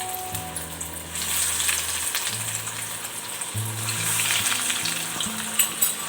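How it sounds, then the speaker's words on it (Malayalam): Chicken nuggets frying in hot oil over a low flame give a steady, soft sizzle and bubbling that stays fairly quiet throughout, with a faint tonal hum in the background and no talk. "ഇനി നമുക്ക് പൊരിച്ചെടുക്കാം"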